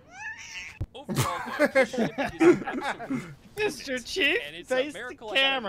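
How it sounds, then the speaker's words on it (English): A cat yowls angrily in a cat video playing in the background, its cries mixed under steady conversation and bursts of laughter from several people. "the cat got angry with her and just started attacking the lady."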